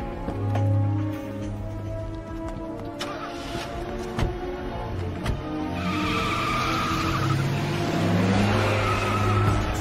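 A car speeds off in an action-film scene, its tires squealing and skidding loudly up close as the engine roar builds, with no voices.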